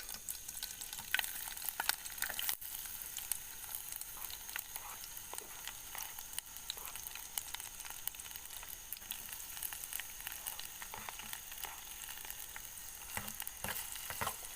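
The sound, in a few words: shallots and spices frying in a pan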